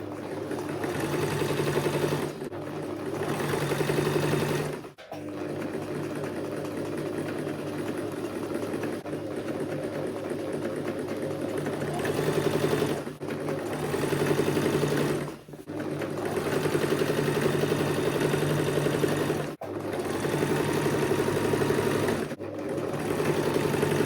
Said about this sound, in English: So I'm sewing the second side now.